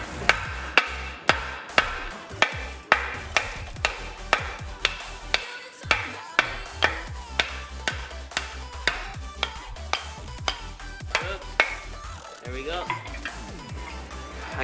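Repeated hammer blows driving a trailing arm bushing out of a Honda Civic's arm, struck through a wood block, land in a steady rhythm of sharp, loud impacts about every half second, close up.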